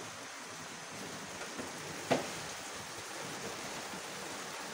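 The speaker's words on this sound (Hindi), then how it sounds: "बारिश हो रही है सही किस्म की।" Heavy rain pours outside a window as a steady, dense hiss of falling water, moderately loud and unbroken, with one brief knock partway through and no voices.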